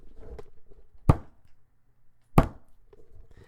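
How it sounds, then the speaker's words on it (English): Two heavy, low thuds of a hand striking a desk, a second or so apart, with faint rustling between. "So I thudded my hand against the desk."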